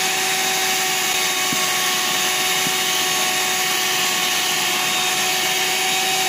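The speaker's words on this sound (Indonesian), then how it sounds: "Pokoknya mixernya itu sampai warna adonannya itu putih, kental, mengembang dan juga berjejak." An electric mixer whirs loudly and steadily, close by, as it beats a yellow sweet potato batter until white, thick and fluffy.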